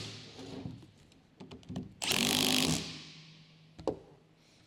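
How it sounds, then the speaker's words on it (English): Electric impact wrench with a 15mm deep socket tightening the strut tower nuts on a 2021-2024 Ford Bronco 4WD, one loud sustained burst of rattling hammering after a few short clicks and handling knocks, close by. "Use a 15mm deep socket with the electric impact to tighten the strut tower nuts."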